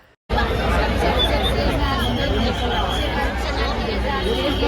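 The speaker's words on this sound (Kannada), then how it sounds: "ಗೈಸ್, ಫುಲ್ ಕ್ರೌಡ್ ಇದೆ." Dense crowd chatter fills a packed cricket stadium during an RCB versus CSK match, a loud, continuous babble of many voices that starts abruptly after a brief quiet moment.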